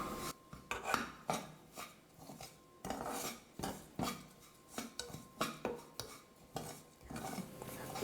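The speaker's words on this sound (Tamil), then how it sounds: "பாசிப்பருப்பு ரவை ரெண்டையும் சேர்த்து நல்லா நான் வந்து வறுத்துக்கிட்டேன்" Wheat semolina and moong dal being dry-roasted in a pan on low heat, a spoon scraping and stirring through the dry grains in repeated rasping strokes, close and steady without talk.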